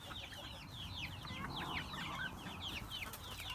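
Chickens and a rooster cluck and chirp in a farmyard coop, a busy run of short, overlapping squawks and calls close by over a steady background hum.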